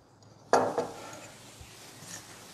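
A utensil stirs a spicy, vinegary sauce in a pan. A single bright metallic clatter is followed by faint scraping and light clinks close by.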